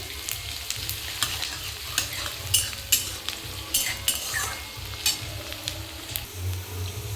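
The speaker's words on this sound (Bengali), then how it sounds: "পেঁয়াজটাই ভালো করে লাল লাল করে ভেজে নেবো" Onions fry in a pan for a Bengali mutton curry, with a soft sizzle beneath irregular spatula scrapes and clacks close up and no speech.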